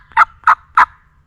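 Three loud wild turkey gobbles ring out in quick succession, each a short rattling burst evenly spaced about a third of a second apart, close and clear against a quiet spring woodland backdrop.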